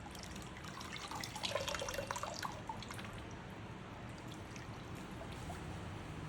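A flood light dipped into water, with close splashing and dripping that is strongest early and then fades to a steady soft trickle, with no voices.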